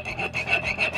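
A hand saw cutting a notch rasps back and forth in quick, even strokes, about five scraping passes, close up with no talking.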